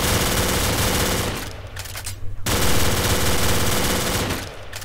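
Deafening bursts of automatic M4 carbine fire in a Minecraft zombies game, two long loud strings of rapid shots separated by a short pause.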